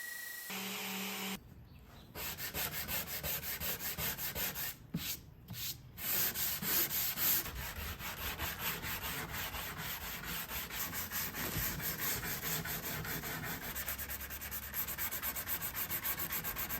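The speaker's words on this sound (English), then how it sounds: "Once that's dried, I'll go back over and sand it." Sandpaper rubbing over vintage mahogany furniture, a dense continuous rasping with rhythmic back-and-forth strokes and a couple of brief pauses, close and steady with no talking.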